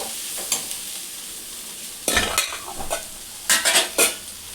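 Spatula or spoon stirring a mung bean batter in a pan with faint sizzling, a few scraping bursts in two clusters, close and fairly loud, no talking.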